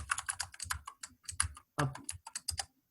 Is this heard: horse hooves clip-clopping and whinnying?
no